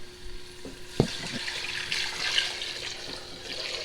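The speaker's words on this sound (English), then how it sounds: "I pour in my liquid" Liquid, mostly water, pours into a cooking pot for chicken and dumplings, a soft splashing stream following a sharp knock of the vessel, faint and close in a quiet kitchen.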